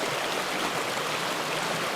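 A cold mountain stream in Tennessee's Unaka Mountains rushes in a steady, dense broadband roar, close and unbroken, with no voices.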